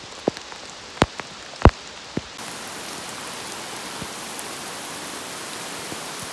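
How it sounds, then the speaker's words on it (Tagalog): Rain pours steadily during a long road bike ride near Puerto Princesa, a dense hiss of drops on surfaces throughout, with a few sharp knocks and clicks early on before the downpour settles into an even wash. "So, umuulan, grabe."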